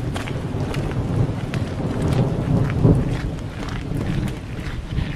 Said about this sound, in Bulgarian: Започна да гърми силно и заваля.